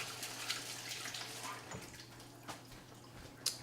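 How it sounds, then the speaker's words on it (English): Tap water runs faintly while hands are washed at a kitchen sink, a soft continuous trickle with a low hum beneath and a few sharper splashes and clinks. "Give your hands a good wash."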